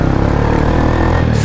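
A motorcycle engine of 400cc or more runs steadily up close with an even, loud drone, alone and without voices, over a brief stretch.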